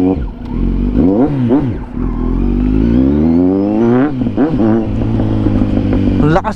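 A Kawasaki Z900 motorcycle engine revs up and down several times close by, its pitch rising and falling, with a person speaking over it near the end.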